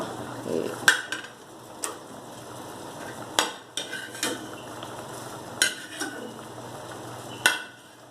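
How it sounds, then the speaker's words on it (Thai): Chilies and white shallots are dry-roasted in a pan for a Northern Thai fermented bamboo shoot salad, heard as quiet scraping and intermittent utensil clinks against the pan over a low steady background. "เขาก็เอาพริกกับหอมขาวมาคั่วเจ้ะ"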